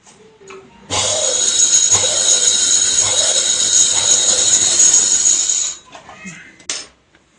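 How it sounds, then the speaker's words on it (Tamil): A sewing machine winding thread onto a bobbin gives a steady, loud high-pitched whir that runs for about five seconds and then cuts off, followed by a brief clunk. "இந்த நூலை பாபினில் சுற்றி மெஷினில் சுற்றணும் மெஷின் ஆன் ஆன் பண்ணி"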